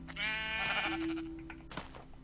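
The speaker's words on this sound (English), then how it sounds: "It's a brown sheep." Brown sheep bleating in Minecraft, one wavering blocky baa followed by a short flat bleat, fairly quiet amid light game clicks and steps, no one talking.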